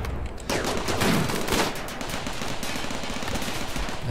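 Turrets fire in the colony-building video game Rimworld, a loud, sustained burst of rapid automatic gunfire that runs for several seconds with no talking.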